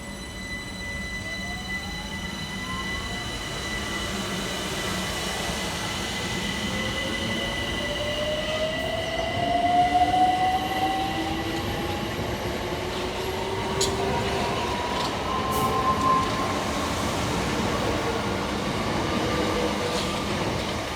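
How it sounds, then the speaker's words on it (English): Two coupled Southeastern Class 376 electric units departing on the Hayes line, with a steady rail rumble, rising motor whine, and repeated high wheel squeals drifting in pitch, loudest mid-pass, with no voices. "departing on his heels is 376024 and 376025, working the 1129 Southeastern service from London Charing Cross through to Hayes"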